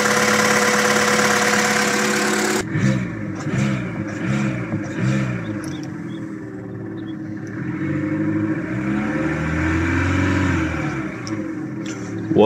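Petrol Opel Corsa 1.4 engine with new spark plugs ticking over at a steady idle, close and loud, with a low rumble that rises and falls slightly throughout.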